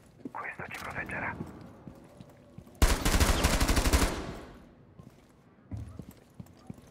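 Gunfire in the video game Rainbow Six Siege, a loud, close burst of rapid automatic shots lasting about a second, with quieter talk and game noise before and after.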